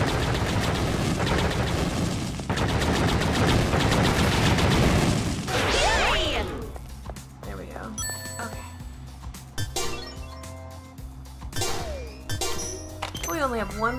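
Gunfire from the video game Danganronpa Another Episode: Ultra Despair Girls, dense bursts of rapid shots and metallic clinks early on, then scattered electronic effects and chimes, with someone talking over the game sounds.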